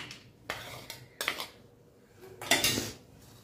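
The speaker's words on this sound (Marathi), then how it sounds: "आता मी हा कांदा काढून घेते." Fried onion being lifted out of hot oil in a pan with a metal utensil, a few close clinks and scrapes against the pan, separated by quiet gaps.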